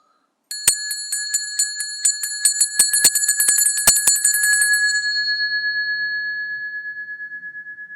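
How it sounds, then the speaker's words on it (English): Meditation bell struck during a guided breathing practice, a rapid series of bright metallic strikes followed by a long shimmering ring that slowly fades, alone and clear. "There'll be the bell."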